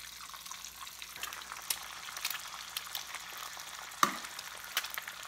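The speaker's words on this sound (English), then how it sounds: "I'm gonna add a little more canola oil along with a chunk of butter. And I'm gonna crack 4 eggs in here." Eggs frying in canola oil and butter for chicken fried rice, a soft, steady sizzle with faint bubbling and one sharp knock partway through, quiet and without speech.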